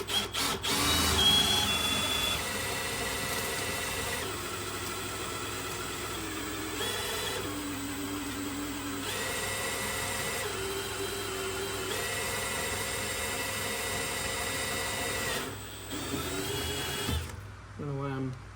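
A power drill with a 7/32 bit bores all the way through a piece of wood during a car modification, its motor whirring in repeated bursts that rise and fall in pitch, with someone talking over parts of it.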